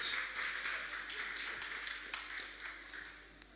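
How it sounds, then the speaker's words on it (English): Audience at a Christian talk show claps at a distance, a fairly faint, steady patter of many hands that fades slightly toward the end. "Please give her a round of applause as she comes to the front."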